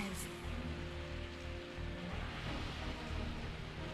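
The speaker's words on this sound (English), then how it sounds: "I woke up to the sound of falling rain." Steady, soft rainfall hisses evenly throughout, a constant wash of drops with no pauses, in the video game Resident Evil 3.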